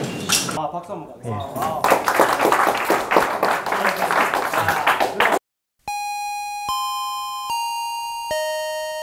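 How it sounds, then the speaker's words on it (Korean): Students clap in a high school classroom at a nuclear energy meister school, a dense burst of applause mixed with voices that stops abruptly, followed by clear sustained electronic chime tones. "박수 한번 가."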